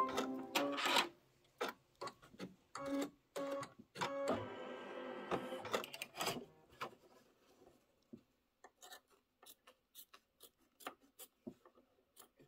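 A home embroidery machine stitches a seasonal table runner, its needle pounding out quick rhythmic bursts up close, dense at first, then thinning to sparse, evenly spaced ticks and taps.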